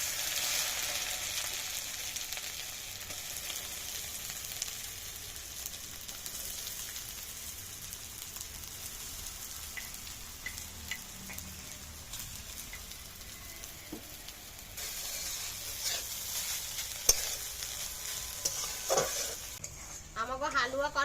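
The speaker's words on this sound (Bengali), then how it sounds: "ঘি দিয়ে কুমড়োটা ভেজে নেব কড়াই বসিয়ে দিয়েছি কুমড়োটা ভাজব" Cut pumpkin fries in ghee in a wok, a soft, even sizzle with scattered crackles and spoon scrapes that grows busier toward the end; fairly quiet and close, with no speech.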